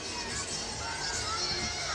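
Large Alabama crowd fills an arena at a gymnastics meet against LSU, a steady murmur of chatter and distant shouts forming a continuous background roar.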